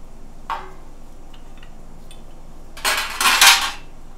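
Metal carburetor parts land in an ultrasonic cleaner with a few light clinks, then a louder burst of rattling and clattering near the end.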